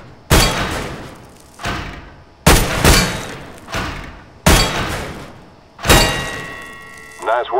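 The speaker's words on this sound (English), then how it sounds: "pick up the weapon and shoot 5 bad guys for me" Single gunshots in a Counter-Strike: Global Offensive weapons course, five loud, close shots spaced about a second and a half apart, each with a sharp crack and short decaying echo, followed by a faint ringing tone at the end.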